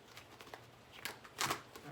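Soft tarot-card shuffling rustles and light flicks, ending in a louder burst of cards slapping and falling onto a surface, close by.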